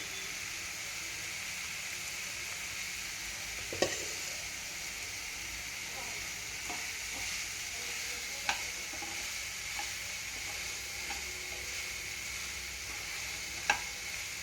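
Onions fry in a pan with salt and a pinch of turmeric, a faint steady sizzle broken by a few sharp clinks of stirring, with someone talking quietly.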